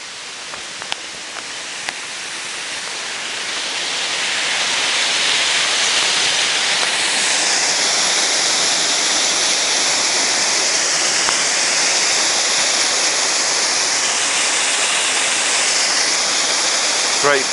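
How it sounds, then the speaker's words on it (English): The waterfall at Roche Abbey gives a steady, broad rushing roar that starts softer and swells to a loud, continuous wash of falling water. "And I'll take you down to the waterfall as well."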